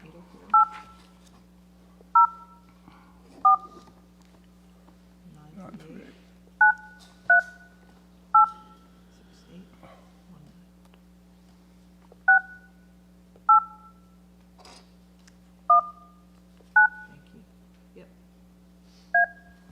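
Telephone touch-tone dialing during a public board meeting, a slow sequence of about fifteen separate two-tone beeps spaced a second or so apart over a steady low hum.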